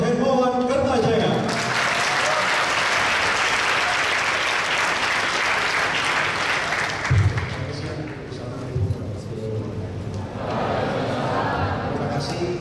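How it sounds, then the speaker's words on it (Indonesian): Audience applause breaks out to welcome a guest speaker onto the stage at an Indonesian seminar, a loud, sustained clapping that fills the room for several seconds before thinning out. "kita sambut dengan tepuk tangan yang paling meriah"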